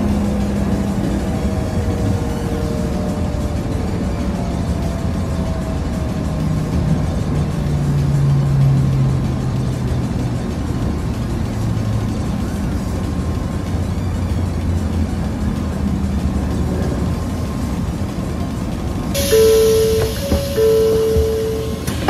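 Interior of a Nozomi Shinkansen train pulling into Kokura station: a steady low rumble and hum of the running train throughout, with a faint tonal electronic chime or announcement tone near the end, no talk.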